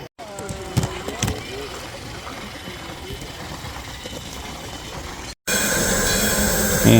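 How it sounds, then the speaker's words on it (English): Live steam garden railway train rolling past at a steamup at Roaring Camp, with rail clatter and a brief wheel squeal under people talking, then a louder steady rush near the end. "here comes train number 1 with Dixie coming back in to change out passengers"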